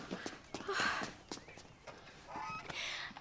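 Geese honk in short nasal bursts at close range, along with scattered footsteps and light thumping movement nearby.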